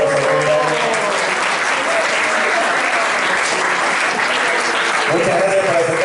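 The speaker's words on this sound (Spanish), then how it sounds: "Así que un aplauso muy grande." Loud, sustained applause from a crowd at a debate panel, steady clapping filling the room for several seconds with voices faintly beneath it.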